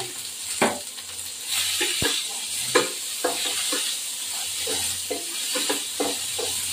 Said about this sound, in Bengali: আগে ফুলকপিগুলোকে ভাজবো